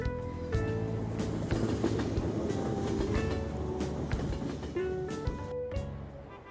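A subway train rides along in the video game Persona 5 Royal, a steady rumbling car interior with faint rhythmic clicks and tonal hums, heard on its own without talk.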